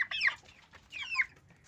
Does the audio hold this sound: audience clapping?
no